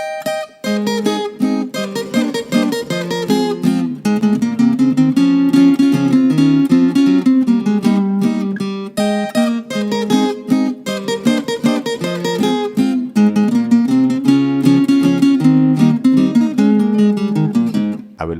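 A requinto guitar plays a riff at normal speed, a fast, bright run of plucked notes, continuous and loud with no voices.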